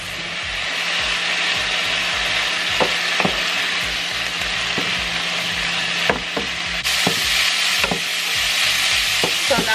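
Onion and carrots fry in a pan with a steady, fairly loud sizzle, punctuated by repeated wooden spatula scrapes and stirs at irregular intervals, close up, with no speech.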